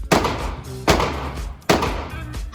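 Three sharp, loud Glock pistol shots at roughly even intervals, each a hard percussive crack with a lingering decay, heard close with no talking.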